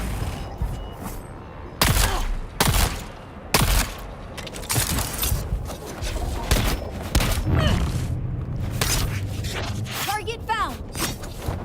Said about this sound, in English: I want to try my new shotgun on you.